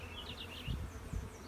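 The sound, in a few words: honey bees buzzing in a hive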